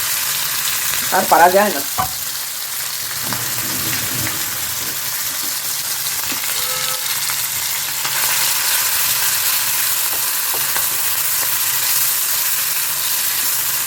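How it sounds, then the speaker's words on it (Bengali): Mourala fish frying in a generous amount of oil, a continuous close sizzle throughout, with a brief spoken remark and a few clatters near the start. "এই মৌরলা মাছটা দিয়েই শুরু করি, এটা ভেজে নিই আগে"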